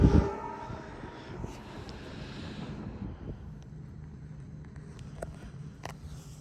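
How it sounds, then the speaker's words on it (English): New York Atlantic Railway RS-50 locomotive approaching on its way to Kleet Lumber, a low steady rumble with gusty wind buffeting the microphone and a few faint higher squeals or clanks near the end. "Now approaching is the New York Atlantic Railway RS-50"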